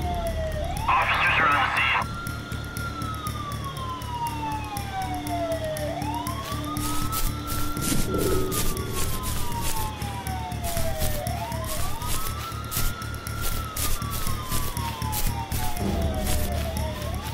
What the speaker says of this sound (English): Weird that I'm faster than the police car, although now I'm saying that it seems to be catching up.